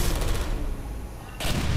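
A Portal 2 turret firing in the game, a dense rapid burst of gunfire that pauses briefly, then resumes loudly near the end.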